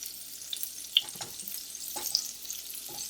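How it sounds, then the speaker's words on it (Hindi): A quarter cup of butter melts in a pan with a soft, steady sizzle, broken by occasional faint scrapes and pops at close range. "बटर को मेल्ट होने दें"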